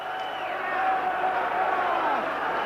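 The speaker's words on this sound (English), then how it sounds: "the crowd's cheers and applause." Crowd noise from spectators at a 1986 heavyweight boxing match in Sydney, a steady broad roar of cheering and applause ahead of the tenth and final round, with commentary voices over it.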